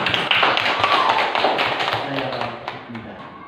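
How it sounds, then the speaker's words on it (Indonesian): A class of elementary students applauds the Melati group in a schoolroom. The clapping is brisk and crowded, loudest at the start, then slowly fades as a few voices murmur underneath. "tepuk tangan untuk kelompok Melati"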